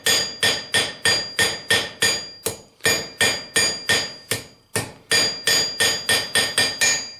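A blacksmith hammering the point of a hand-forged hook, sharp ringing blows in a steady rapid rhythm, close and loud, with a few brief gaps between runs of strikes.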